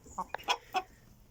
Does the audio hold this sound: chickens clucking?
yes